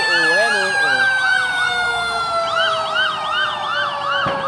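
Fire truck sirens at a large fire on Visayas Avenue in Quezon City, several overlapping wailing and yelping sirens, loud and sustained, with a voice talking briefly at the start.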